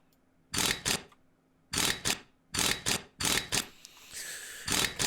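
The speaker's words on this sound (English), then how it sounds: "I do need to bolt these on, though, which is a pain." Bolts being driven onto a Cromwell tank in Tank Mechanic Simulator: five bursts of rapid, whirring power-tool fastening, each about half a second with a brief pause inside, separated by quiet gaps, close and clear with no talk.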